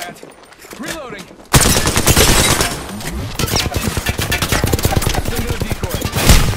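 Gunfire in the video game Apex Legends, a rapid, loud burst of automatic shots that erupts suddenly after a quieter opening and keeps hammering steadily to the end, with faint speech before it begins.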